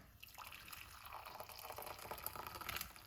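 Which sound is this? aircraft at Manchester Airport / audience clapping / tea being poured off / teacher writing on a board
tea being poured off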